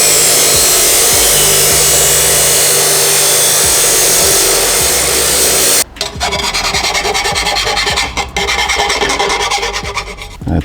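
A power tool grinds harshly through a 3-inch exhaust pipe during fabrication for a K24-swapped MR2 Spyder, a loud continuous rasping cut that shifts to a rougher, pulsing grind partway through.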